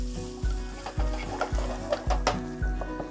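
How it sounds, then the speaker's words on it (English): Garlic, shallot and onion sizzle in a pan while a utensil stirs them, giving a steady fry with sharp, regular scrapes about every half second. "Lots of garlic on this one, and shallot. Then you add onion. Then you're gonna saute them,"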